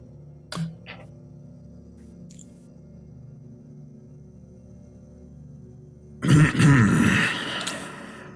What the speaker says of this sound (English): Well, somebody's coughing.